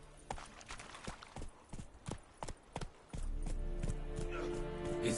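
Roach the horse trots in The Witcher 3, with distinct, evenly spaced hoof clops close by, followed by a denser, steadier stretch of hoofbeats over a background hum.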